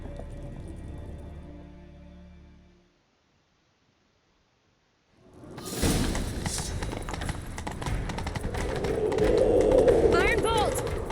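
Rapid hoofbeats of a galloping horse in The Witcher 3: Wild Hunt pound under game music and voices, following a brief stretch of near silence.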